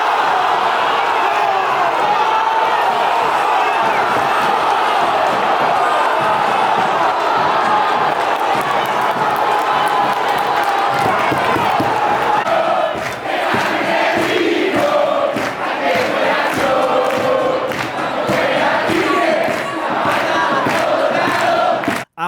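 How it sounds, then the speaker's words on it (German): A stadium crowd at a CA Tigre match erupts after an equalising goal, a massive sustained roar that stays loud throughout, later broken by rhythmic shouts, claps and bursts of chanting. "Der Jubel war riesig."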